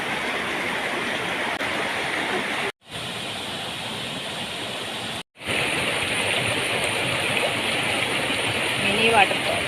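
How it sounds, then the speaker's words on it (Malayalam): A small waterfall in a forest rushes with a constant, loud hiss of falling water, broken by two short gaps, with talking faintly present at times. "ഇവിടെ ചെറിയൊരു വെള്ളച്ചാട്ടമുണ്ട്"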